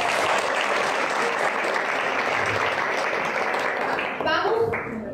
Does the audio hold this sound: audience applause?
yes